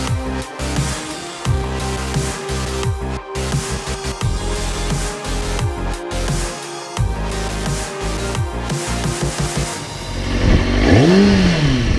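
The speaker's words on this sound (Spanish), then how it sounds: "vas a llorar con lo suave que va mi moto" A Kawasaki Ninja motorcycle engine runs loud and close, its pitch rising and falling with throttle, then climbing in a strong rev near the end.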